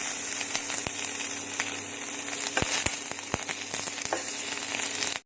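Fatty pork pieces frying in their own rendered fat in a dry, oil-free hot pan: a steady, dense sizzle with occasional sharp pops and a few clinks, loud and close, no talking.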